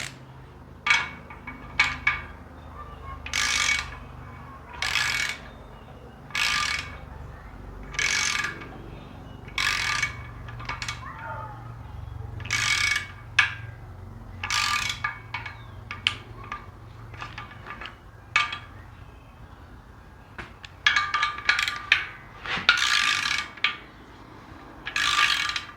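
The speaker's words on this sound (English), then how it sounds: "These back two bolts, they torque about 8 pounds." Ratchet wrench clicking in short repeated bursts while torquing bolts on a Gen 3 5.3 V8 engine under assembly, close and fairly loud, with pauses between strokes.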